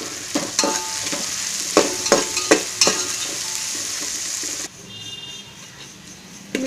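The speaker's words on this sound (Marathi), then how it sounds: "आपण जरा लालसर होईपर्यंत भाजून घेऊया।" Onions frying in a pan while a spoon stirs them, for a Satara-style chicken masala: a steady close sizzle with a string of sharp scraping clacks from the stirring, then a quieter sizzle alone.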